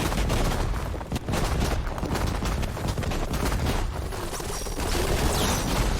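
Machine in Horizon Forbidden West firing on the player: a dense, continuous barrage of loud gunfire-like blasts and crashes filling the whole stretch, with no clear pauses.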